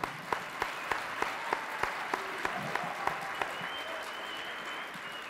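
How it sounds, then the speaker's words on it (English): Audience applause at a circus camp showcase: a steady wash of clapping from a crowd, with a few sharper individual claps standing out and faint voices murmuring underneath. "So warm round of applause for all them,"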